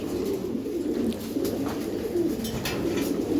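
Giribaz pigeons coo in low, steady, throaty rolls, close and continuous over a soft background hiss, with no one talking.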